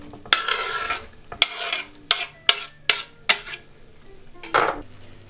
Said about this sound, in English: now I'm going to put it in the frying pan, the onions and the mushroom